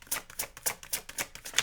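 Tarot cards shuffled by hand in a quick series of about six crisp riffling bursts, close and fairly quiet, with no voice.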